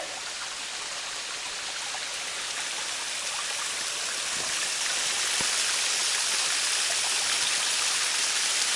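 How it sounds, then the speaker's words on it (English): A waterfall on the Collins Trail in Savage Gulf roars steadily from close range, a dense, continuous rush of falling water that swells slightly louder toward the end. "So here we are at the top of the waterfall."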